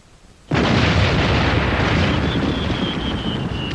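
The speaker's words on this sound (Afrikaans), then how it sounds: "So dan is dit die vuurwerke wat so vreeslike geraas maak." Fireworks launched from a boat burst in one sudden loud blast that rolls into a long, dense roar of crackling and rumbling, with a faint thin whistle rising near the end.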